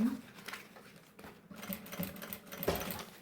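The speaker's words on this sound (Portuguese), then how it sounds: "vou passar uma costura" A sewing machine stitches a seam on a small fabric baby pouch, giving a short run of quick mechanical chatter with a brief pause partway through, close by and moderately loud.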